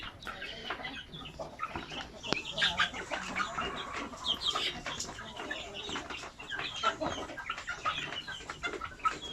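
A dense flock of farm chickens raised for meat clucks and chatters busily throughout, close by, with overlapping calls and occasional sharper squawks.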